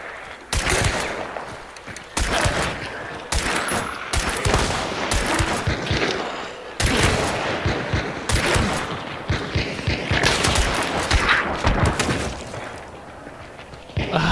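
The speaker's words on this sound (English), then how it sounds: "We're just shooting now, just to shoot." Rapid, loud gunfire from the Levering gun in Hunt: Showdown, a game set in a bayou, with repeated sharp shots in quick bursts separated by brief gaps over a dense, noisy background.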